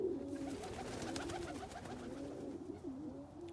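A pigeon coos in a series of soft, rolling calls, fairly quiet and close, with no talk.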